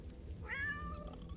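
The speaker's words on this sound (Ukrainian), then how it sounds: "Так, кіт." A cat meows once inside the horror video game The Floor Above, a single drawn-out, slightly rising cry over a low game ambience.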